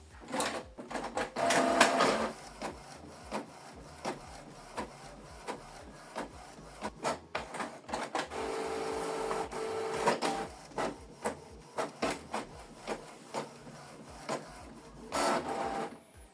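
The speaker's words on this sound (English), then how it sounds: "Print double-sided, then select print." A Canon Pixma G3590 inkjet printer runs a double-sided print job, with mechanical whirring, clicking and paper-feed bursts that repeat at intervals, plus a steady motor hum partway through, fairly close but quiet overall.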